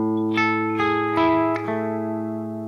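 Guitar chord built up note by note, several separate plucks stacking into a ringing, sustained sound that fades at the end, with no talking.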